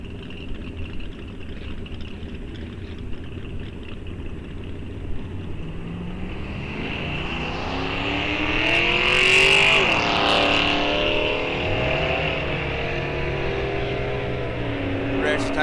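Drag racing cars at a bracket series event launch and accelerate down the strip, a loud rising engine roar swelling mid-clip with the revs sweeping up, then a second engine climbing, under a track announcer's voice.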